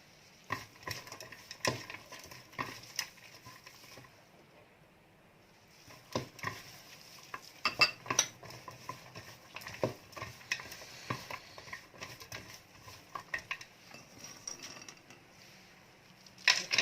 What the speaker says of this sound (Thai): คั่วลงไปนะคะ